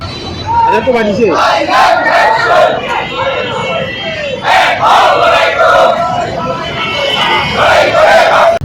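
Crowd at a BNP protest march on the Dhaka–Chittagong highway in Mirsarai chanting slogans loudly in rhythmic call-and-response waves, with close, shouting voices.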